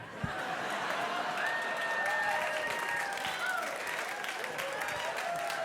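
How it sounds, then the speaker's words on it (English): Polite audience applause after a joke at a live comedy show, steady mixed clapping with some murmuring and light chuckles throughout, fairly distant and even in level. "Those are polite applause, actually."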